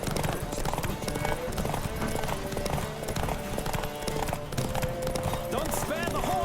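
Rapid clip-clop hoofbeats of a horse galloping in a race in The Witcher 3 pound steadily and close, with the occasional whinny and talking voices over the top.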